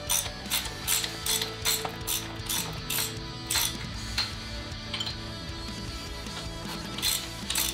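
Ratchet wrench clicking as steering damper bolts are tightened on a motorcycle, a close, steady run of sharp metallic pawl clicks in quick bursts, no talking.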